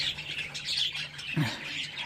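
A budgerigar gives short, harsh squawks and scratchy chatter in quick bursts, close by.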